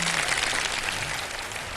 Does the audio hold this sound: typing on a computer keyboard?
no